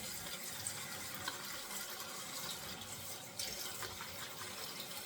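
Water poured from a tap into espresso shaving soap lather in a bowl, a steady close hiss of running water with a light bubbling texture.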